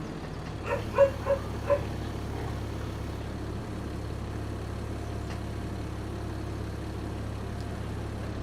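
A farm dog in the video game Farming Simulator 25 gives a quick burst of three or four short barks early on over a low, constant engine-like drone, which continues alone afterward.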